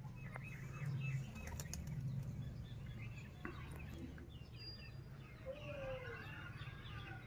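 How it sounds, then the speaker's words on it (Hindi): Brief fluttering of a pigeon's wings, soft and close, with quiet background noise and a faint bird call. "दोस्तों एक होर कबूतर आ गया"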